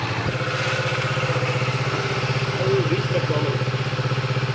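Two motorcycles, a Triumph Tiger 900 and a Kawasaki Vulcan, idle at a steady throbbing rumble close by in Cooma, New South Wales, with a voice speaking briefly over the engines.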